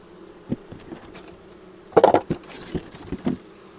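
Bees buzzing near a hive, with brief close buzzes and taps, one louder flurry in the middle, otherwise quiet.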